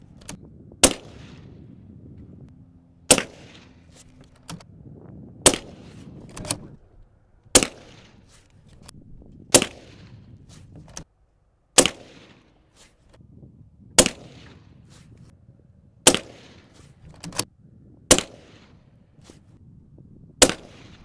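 Gunshots fired at a Hesco 3810 LV body armor plate in a torture test: about ten loud, sharp single reports spaced a couple of seconds apart outdoors, each with a short decay, no talk between.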